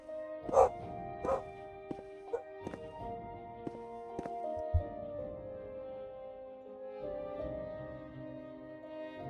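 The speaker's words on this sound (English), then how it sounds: "I don't know what she's barking at." A dog barks indoors, several sharp barks and yips spread through the first half, fairly faint and distant, with a steady hum underneath.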